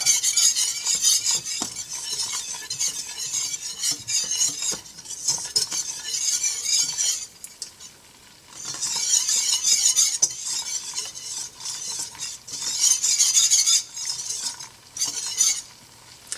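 A spoon stirs flour as it cooks in a pan, giving repeated close scraping strokes over a soft sizzle, with a brief quieter pause midway before the stirring resumes.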